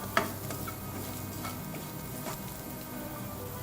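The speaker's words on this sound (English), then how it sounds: "Then roast the meat curry powder together with the rest of the ingredients." Meat curry powder roasts in a pan with dried prawns and other ingredients, giving a soft continuous sizzle with light stirring scrapes and taps, close and steady throughout.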